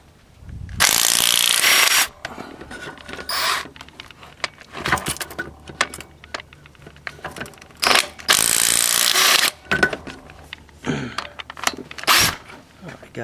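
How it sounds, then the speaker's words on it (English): A ratchet loosens the cylinder head bolts on a rear cylinder head of a 1999 Ford Taurus 3.0L engine with a misfire. Close, loud bursts of rapid clicking ratcheting come in uneven spurts, with clanks and handling noises between them. "now what I'm doing is just going along and taking out these head bolts"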